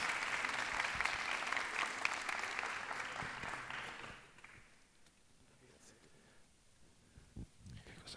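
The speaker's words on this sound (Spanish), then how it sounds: "Un aplauso para Facundo, un aplauso para Alonso" Audience applause at a school event in a Spanish-speaking setting, a dense steady clapping that fills the first four seconds and then fades to scattered claps and room noise.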